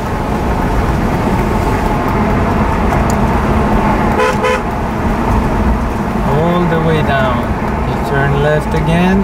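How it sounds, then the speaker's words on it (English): Car horn tooting on a narrow two-way street, short honks over steady engine and road noise from inside the car while someone talks throughout. "Blow the horn because it's a two-way street"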